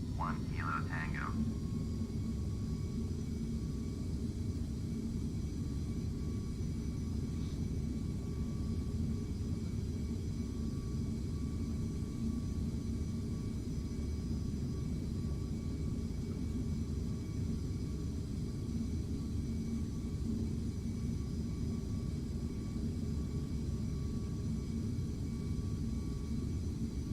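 A small airplane's engine drones loud and steady through takeoff from runway 24 in hazy weather, a constant cockpit roar; a brief voice sounds at the start.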